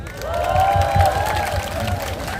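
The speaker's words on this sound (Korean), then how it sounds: "여러분들한테 한번 박수 한번 보낼까요?" A rally crowd packed into a public square applauds, a steady wash of clapping sustained for a couple of seconds beneath a tonal musical sound.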